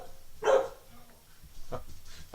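Puppies barking in two short bursts, a louder yip-like bark followed by a softer one, fairly close with no talking over them.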